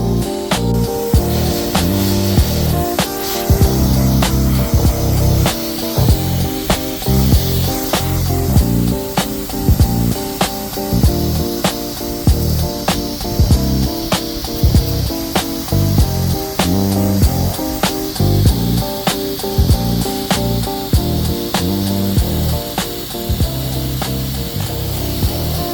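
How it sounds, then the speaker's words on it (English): Continuous loud spraying of soft wash solution onto a tile roof, a steady hissing rush with rhythmic pulsing from the pump running throughout, no talking. "I just got down after spraying the roof."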